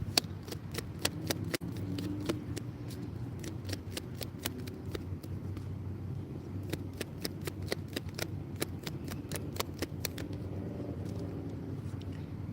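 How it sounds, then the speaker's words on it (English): Tarot cards being shuffled by hand, a steady run of crisp flicking riffles and snaps over a low background hum, fairly quiet and close, with no talking. "One more shuffle."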